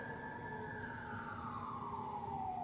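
A siren wails outside, its tone sweeping slowly downward, steady and fairly faint over a low background rumble.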